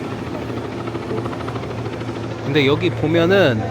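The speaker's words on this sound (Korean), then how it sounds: "저기 밑에 헬리콥터 뜨려고 하나 보다." A helicopter preparing to take off below a viewpoint at Guatapé, Colombia, giving a steady low mechanical drone throughout, with people talking over it in the last second.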